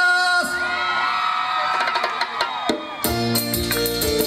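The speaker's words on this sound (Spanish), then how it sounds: "Quiero el grito de todas las chicas enamoradas." Girls in the crowd at a festival concert scream together in a loud, sustained high-pitched roar, rising again into a fresh burst of shrieks near the end.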